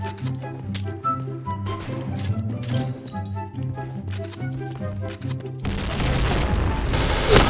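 Gunfire and headshot hits in a tactical first-person shooter match, with rhythmic music pulsing under rapid shots for most of the stretch, then a dense loud burst of noisy action near the end.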